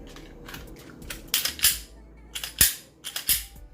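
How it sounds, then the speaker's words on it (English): Slide of a Glock 27 .40 pistol, wrapped in vinyl, being fitted back onto the frame: a few sharp metallic clicks and snaps close by, with two louder clacks in the second half and no speech. "So now I'll go ahead and put my slide back on."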